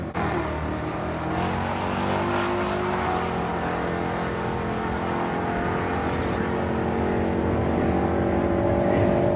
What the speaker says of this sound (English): you can hear the nitrous come in really hard midway through second gear